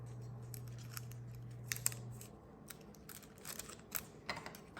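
Scissors snipping tape for a pipe cleaner bouquet: a few quiet, close crisp cuts and rustles spaced out over a few seconds, with a faint steady hum early on.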